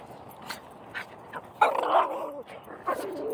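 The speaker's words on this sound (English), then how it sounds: "Dogs go away." Several dogs out on a run bark and whimper at close range, short yips and whines scattered through the moment with a louder burst of barking midway, and no talk over them.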